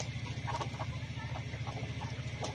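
Layer pullet hens clucking in a poultry flock, several short overlapping clucks and calls over a steady low hum, close by with no talking.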